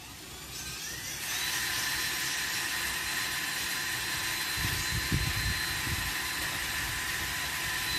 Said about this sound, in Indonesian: Kita lubangi dengan bor ya.